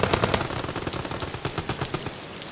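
Rapid automatic gunfire in the horror video game Amnesia: The Bunker, a dense rattling burst of close, loud shots repeating at a fast even rhythm for the full stretch, with no voices.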